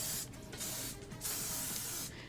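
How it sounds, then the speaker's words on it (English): BioSilk hair spray, a finishing spray with natural hold, misted onto hair in three loud close bursts of hissing, separated by short pauses. "Now, I'm going to take my BioSilk spray."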